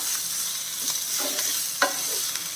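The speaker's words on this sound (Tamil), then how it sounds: "சேர்த்து எல்லாத்தையுமா நல்லா கிளறிப்போம்" Chicken fry with coriander leaves gets stirred in a sizzling pan: a steady frying hiss with soft scraping strokes of a spoon and one louder clack, close and without talk.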